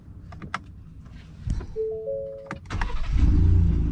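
A Ford F150 pickup truck shuts off with clicks and a short electronic chime, then a low engine rumble swells up near the end, all close by with no talking.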